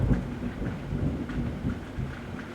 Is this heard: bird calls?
no